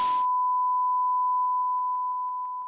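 A simulated tinnitus ringing, a steady pure tone, sounds alone after a short burst of noise at the start and holds evenly, then pulses faintly and grows slightly quieter toward the end.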